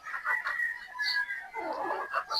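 Pullet chickens of the Sweater and Boston gamefowl breeds cluck and call close by in a short, busy burst, with a steady higher tone and scattered bird noises running throughout.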